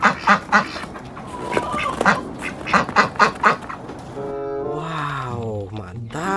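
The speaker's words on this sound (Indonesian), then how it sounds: "Ini hewan bebek." A duck in the video game Jurassic World Evolution 2 gives a rhythmic series of about eight close, loud quacks, then a longer drawn-out honking call.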